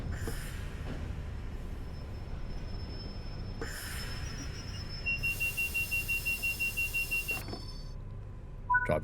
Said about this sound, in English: Driver's vigilance device went off there at the last moment